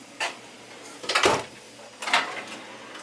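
Drawers of a two-drawer freezer in a 2018 Marathon Prevost motorhome sliding open and shut, three distinct rolling thuds spaced about a second apart, close and moderately loud.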